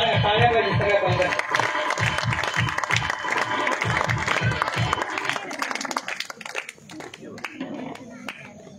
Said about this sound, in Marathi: टाळ्या पाहिजे सगळ्या पालकांना.